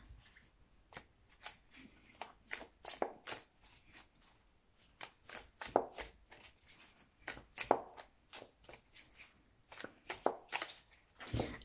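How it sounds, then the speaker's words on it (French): A tarot deck, the Dark Mansion Tarot third edition, is shuffled by hand in close, crisp bursts of riffling and slapping cards that come in irregular waves, with no talk. "je mélange encore un petit peu, hein, parce que comme j'avais remis les cartes dans l'ordre"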